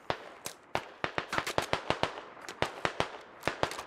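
Gunfire in a tactical shooter video game: a rapid, uneven string of sharp single cracks, fairly faint and distant-sounding, with short gaps between volleys.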